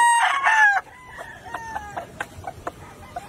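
Gamefowl roosters of regular gray breeding stock on a game farm, one loud nearby crow followed by scattered short clucks and calls.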